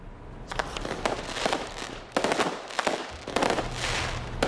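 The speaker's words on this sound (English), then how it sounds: "Rain didn't stop a Diwali fireworks display from setting the tone for the Festival of Lights" A Diwali fireworks display over Winnipeg on a rainy festival night, with rapid clusters of sharp crackling bursts and pops coming in waves, loud and fairly close.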